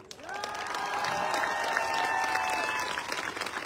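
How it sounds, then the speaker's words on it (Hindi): A crowd at a motivational seminar in Lucknow breaks into loud, sustained applause that swells quickly and holds, with a voice or tonal sound briefly audible over the clapping. "ताली बजाओ तो ढंग से"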